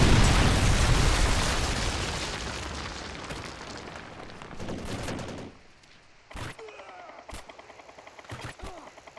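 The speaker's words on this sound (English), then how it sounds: "Predator missile inbound." A loud, broadband blast from a Predator missile strike in Call of Duty, with roaring debris that fades over several seconds, followed by a sharp gunfire burst and scattered shots.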